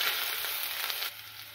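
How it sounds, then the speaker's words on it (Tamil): Onions, green chilies and curry leaves frying in a pan for Indian-style masala macaroni, giving a steady, fairly loud sizzle over a short moment with no talk. "வெங்காயம், பச்சை மிளகாய், கருவேப்பிலை சேர்த்துக்கலாம். ஃப்ரை பண்ணிக்கலாம்."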